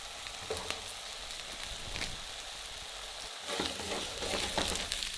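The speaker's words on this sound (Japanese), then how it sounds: "温めたフライパンにオリーブオイルを入れて、先ほど切ったじゃがいもをソテーしていきます" Sliced potatoes sauté in olive oil in a hot frying pan, giving a steady close sizzle with crackling pops and occasional stirring scrapes throughout.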